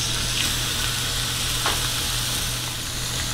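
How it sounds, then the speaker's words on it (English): Beef sears in a ripping hot skillet, a steady close sizzle and crackle that holds constant throughout with no talking. "we got our skillet ripping hot. We're gonna do a sear."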